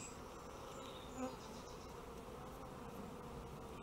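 Honey bees buzz near a hive in a dense, continuous drone, with individual insects passing close at times under the steady swarm hum.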